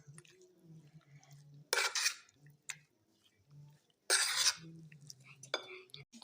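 A bowl of chicken marinade with ginger powder and vinegar is stirred in a kitchen, giving two loud scraping and clinking bursts and a few softer taps, separated by quiet moments with a low hum.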